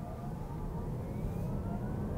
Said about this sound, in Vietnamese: Các bạn có nghe tiếng động cơ điện không?